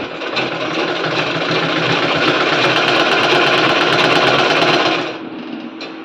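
An Usha sewing machine stitches a dress in a fast, steady mechanical whir and clatter, loud and close, running for about five seconds before stopping abruptly.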